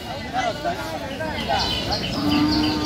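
An Australian Friesian cow with her calf at a busy cattle market, low lowing moos rising through steady crowd chatter and nearby voices.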